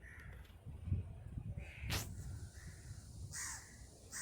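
A few crow caws ring out in the distance in Port Klang, Malaysia, over low background rumble, harsh calls spaced irregularly with a sharp click in between.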